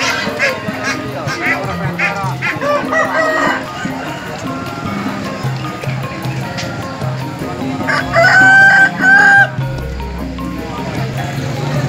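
Roosters crow repeatedly amid a noisy market full of clucking birds in Sumpiuh, Banyumas, with one loud, close crow standing out near the end.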